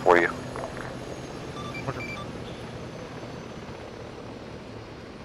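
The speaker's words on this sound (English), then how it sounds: "So just bring the Chinook over here and we'll sling it for you." A Chinook helicopter in the military game Arma 3 drones with a steady, continuous rotor and engine rumble. A short burst at the very start gives way to a level hum.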